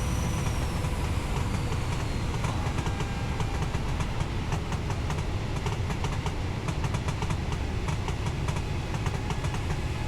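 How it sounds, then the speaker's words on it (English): A Valenta-engined HST pulls away from Exeter in Train Simulator 2017, its diesel engine droning loudly and steadily with rhythmic rail clicks throughout, no voices. "And then just watch the train go."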